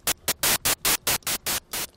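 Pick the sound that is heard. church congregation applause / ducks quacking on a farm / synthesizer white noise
synthesizer white noise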